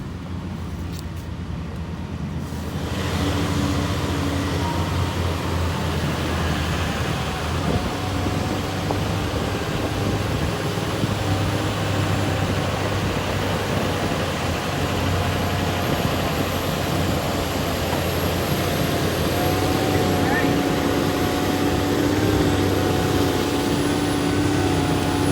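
A log skidder grinds up a short, steep hill, its heavy diesel engine holding a loud, steady labouring drone close by for the whole stretch after a brief quieter start.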